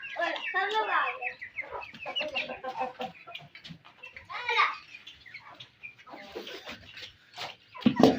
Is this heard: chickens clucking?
yes